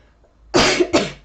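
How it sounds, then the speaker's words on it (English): Two quick, close coughs in succession, loud and dry, with near silence around them. "Gosh, I keep coughing"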